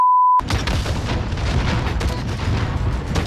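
A turret blowing up in Call of Duty Warzone: after a brief tone, a loud booming blast with dense rumbling debris and crackle that carries steadily through to the end, with no voices over it.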